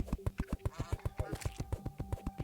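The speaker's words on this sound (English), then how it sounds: "Oh, did you hear the duck?" A duck quacks in the video game Terraria, a rapid, regular run of short, loud quacks repeating without a break for a couple of seconds.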